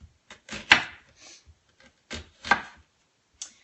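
A knife works through an onion, making arched fan cuts along its ribs: several crisp chopping taps against a board, spaced irregularly with short quiet gaps, close and clear with no talking.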